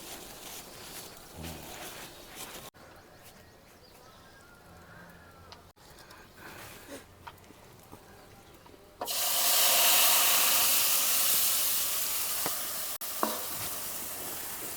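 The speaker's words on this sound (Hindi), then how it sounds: "बेसन का घोल महाराज जी कढ़ाई में डाल दिए" Gram flour batter is poured into a hot kadhai and bursts into a loud, steady sizzle that rises suddenly and holds for several seconds, after quieter stirring and scraping sounds.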